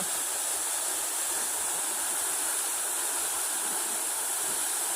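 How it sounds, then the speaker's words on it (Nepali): Bagne waterfall in Nepal roars continuously, a loud, close, unbroken wash of falling water with bright hissing spray and no voices. "वाग्ने झरना यहाँहरूमाझ म देखाउन गइरहेको छु। अत्यन्तै सुन्दर झरना छ।"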